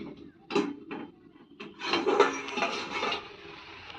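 A lid is set onto a pot of cooking taro leaves: a few short metallic clinks and knocks, then a longer clattering rattle, close and fairly loud, with a little faint talk.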